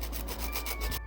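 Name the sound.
sanding a cut aluminium pipe with sandpaper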